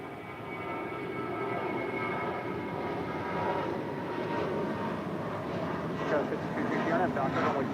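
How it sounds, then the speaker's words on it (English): A Virgin Atlantic Boeing 787-9 Dreamliner from London arrives at LAX on the south side, its steady jet roar broad and continuous throughout, with indistinct background voices underneath. "Virgin Atlantic flight 141 coming in from London on a 787-9 Dreamliner"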